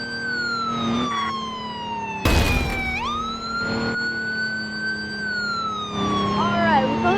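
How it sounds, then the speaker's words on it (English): Emergency vehicle sirens wail continuously, sweeping up and down in pitch while responding with lights and sirens, loud and close, with a brief burst of noise midway and faint engine rumble beneath. "we are gonna respond with stage 3 lights on and sirens"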